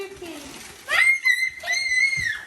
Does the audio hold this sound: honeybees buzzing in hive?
no